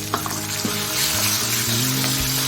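Onions sizzle and fry in a hot pan while being stirred, a steady close crackle broken by a few scraping stir sounds.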